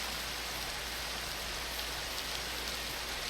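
Steady rain falls inside a Minecraft world running the Tektopia mod, a constant even hiss of drops on surfaces that holds at a moderate level throughout with no voices.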